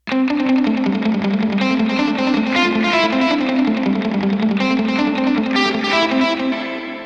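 A distorted electric guitar through a Line 6 Helix plays a busy melodic line over a steady sustained tone, loud and continuous with heavy effects.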